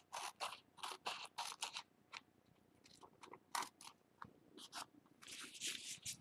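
Scissors snip through washi tape close up, a quick series of crisp, dry cuts with irregular spacing and short pauses, ending in a cluster of rapid snips.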